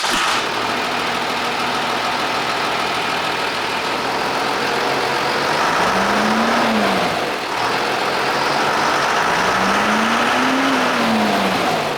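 12-valve P-pump diesel truck roars steadily on a chassis dyno, a loud, continuous engine drone with two slow rising-and-falling pitch sweeps as revs climb and die off, with no talk over it.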